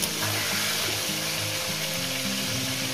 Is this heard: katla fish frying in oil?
yes